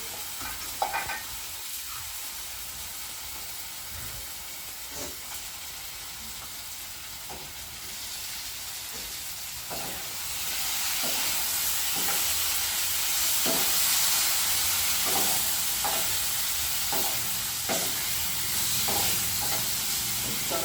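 Bottle gourd kofta cooks in a pan, with a steady hiss and a regular, rhythmic scrape of stirring about once a second. The sizzle grows louder about halfway through.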